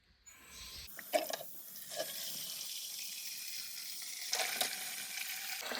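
Water poured out of a pail outdoors after hauling chores, a sudden splashing gush that settles into a steady, fairly close rushing stream with a second surge near the end, no talking.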